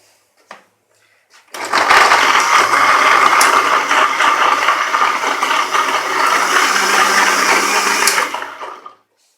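Electric grinder blending whole lemons with peels and seeds in water, a loud steady whirring roar that starts abruptly, runs for several seconds and cuts off.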